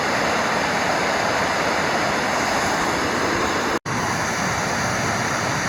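A massive waterfall on a Chattahoochee River tributary thunders nearby as a dense, constant broadband rush of falling water. It breaks only for one instant of silence and has no voices.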